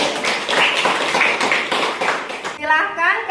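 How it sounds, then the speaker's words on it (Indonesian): Classroom of students clapping for a classmate, a brisk burst of many hands clapping close by, ending abruptly as a voice begins speaking. "kasih tepuk tangan kepada Zeni"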